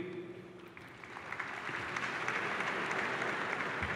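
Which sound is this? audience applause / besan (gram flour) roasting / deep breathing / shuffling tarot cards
audience applause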